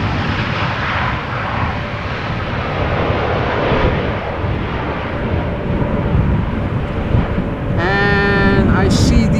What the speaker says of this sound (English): Lufthansa, in the meantime, just now landed.